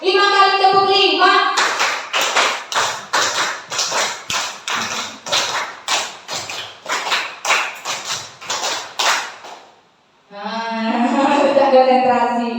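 Indoor group hand clapping in a rhythmic sequence of sharp, evenly spaced claps, many in a row and loud, between stretches of talk by a leader.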